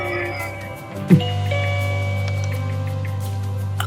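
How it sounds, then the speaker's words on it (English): A single doorbell chime rings out once, close by, over a steady low electrical hum that continues afterward. "Who is ringing my doorbell at this hour?"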